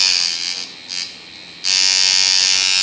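An ARTFLY Turbo V1 tattoo machine motor, running at 7.5 volts, buzzes in short high-pitched bursts, then runs steadily at a loud, whining hum close by.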